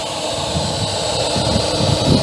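Twin 64mm electric ducted fan engines on an Arrows F-15 Eagle RC jet, a steady broadband roaring whoosh with a rising and falling rush as the model flies past outdoors, continuous throughout with no talk.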